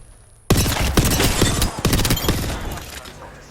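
Gunfire in Apex Legends erupts after a moment of quiet, a loud, close barrage of rapid cracking shots that rattles on for about two seconds before trailing off into echoing reports.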